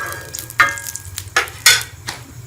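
A paratha cooking in ghee on a hot tawa, a low steady sizzle punctuated by a few sharp scraping or pressing sounds from a spatula.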